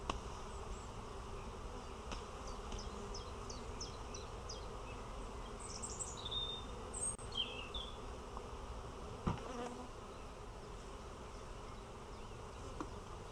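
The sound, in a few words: honey bees buzzing around a hive frame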